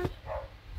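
A dog barks once, short and fairly loud at the start, followed by a faint trailing yelp over a low background hum.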